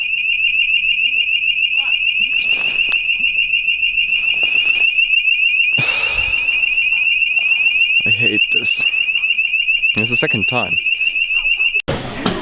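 A hotel fire alarm rings with a continuous, piercing high electronic tone, loud and steady for nearly the whole stretch before cutting off near the end. People talk and doors clatter beneath it.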